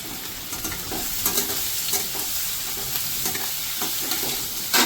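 Chopped onions hit hot oil in a pan while cooking soya manchurian, giving a steady bright sizzle with occasional stirring scrapes, close and continuous with no talking.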